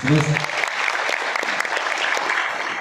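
An audience at a school comedy show in Bozataw district breaks into steady, dense applause, loud and sustained throughout, after a brief voice at the start.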